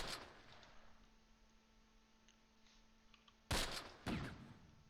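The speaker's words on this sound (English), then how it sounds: "All right, mortar going out." Mortar fire in the Close Combat Last Stand Arnhem war game, set at Grafwegen in 1944: two loud, sharp blasts close together near the end after a quiet stretch.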